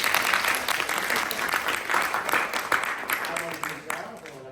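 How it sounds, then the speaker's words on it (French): Audience applause at a theatre in Montreuil-sur-Mer, a steady wash of clapping from a crowd that holds at a fairly even level for several seconds before thinning near the end. "Vous pouvez l'encourager, vous pouvez l'applaudir."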